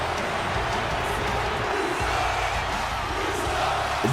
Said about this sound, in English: This crowd hates Finn Balor.